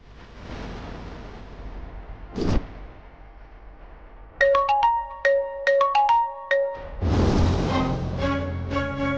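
A phone ringtone plays a clear melodic sequence of bright tones for several seconds in a room, preceded by a sharp thud and followed by louder rustling and handling noise.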